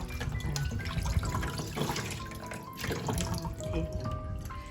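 Running water splashes and trickles steadily as carp fish are washed with vinegar in a kitchen, a continuous close wash of liquid sound with small drips.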